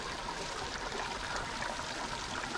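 Water in a small Colorado creek runs slowly past large boulders, a steady soft trickle and gurgle that stays close and even throughout, with no voices.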